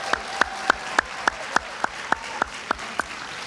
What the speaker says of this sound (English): how about a round of applause for our business owner nominees for 2023?